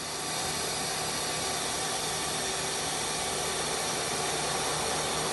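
The spindle of a 2011 Mazak Quick Turn Nexus 100-II MY CNC lathe runs at about 1,000 RPM, giving a steady, even hum and hiss with no talk.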